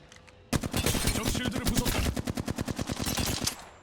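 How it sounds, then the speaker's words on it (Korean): Rapid automatic weapon fire in the Apex Legends video game, a dense burst of evenly spaced shots lasting about three seconds, loud and close, with a brief quieter stretch before it starts. "사격 중."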